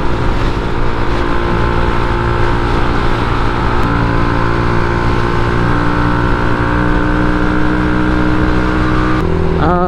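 A Honda RFS150i motorcycle engine runs steadily while riding, a loud continuous drone with a slight pitch change near the end, no talk over it.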